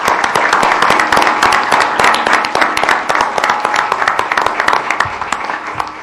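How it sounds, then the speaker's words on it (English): Township audience gives a round of applause, many hands clapping close and loud in a dense crackling burst that continues evenly for several seconds, then thins slightly. "we owe you a great round of applause"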